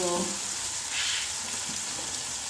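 Garlic ginger paste frying in a pan gives a steady, loud sizzle that hisses without a break from start to finish, with faint tonal hum briefly underneath at the start.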